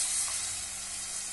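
Tomato masala for paneer butter masala sizzles and hisses loudly in a pan as a little water is poured in, a steady close frying crackle across the whole short moment.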